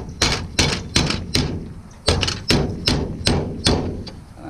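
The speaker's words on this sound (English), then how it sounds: "Need a dead blow hammer at this point." A dead blow hammer strikes the hood of a Ford F-350 truck with a 7.3 IDI diesel during hood adjustment, giving about eleven heavy metallic thuds in two quick bursts, loud and close with no talking.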